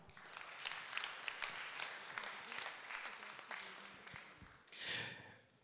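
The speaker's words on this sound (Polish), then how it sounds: "Jeszcze raz ogromne brawa." Crowd at an outdoor ceremony honouring a regional marshal and senator applauds at length, a steady dense patter of many hands that fades before a brief louder swell near the end.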